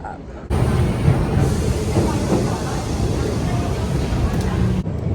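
Steady low rumble and hiss inside a moving train heading to Paris, constant and loud, with faint voices in the background.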